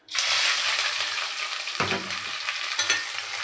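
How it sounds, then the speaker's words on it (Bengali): Sliced onions sizzle in hot mustard oil in a kadai with garam masala and bay leaf, a close, constant hiss broken by a couple of duller stirring knocks. "পেঁয়াজটা একটু ভাজা হবে বন্ধুরা"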